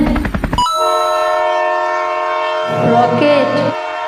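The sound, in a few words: train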